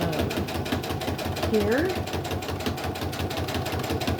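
A sewing machine runs steadily throughout, stitching a slightly generous quarter-inch seam while joining rows of a crumb crazy quilt, with a voice speaking briefly over the continuous whir.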